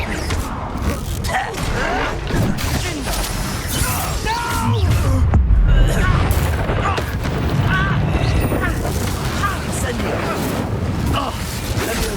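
Confringo explosion spell going off in Hogwarts Legacy, with booming blasts, crashing debris and mechanical clatter over about twelve seconds, mixed with in-game character speech.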